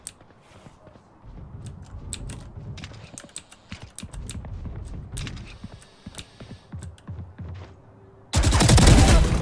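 Gunfire in the video game Valorant, heard as rapid clusters of crisp shots and clicks with a burst of louder noise at the very end.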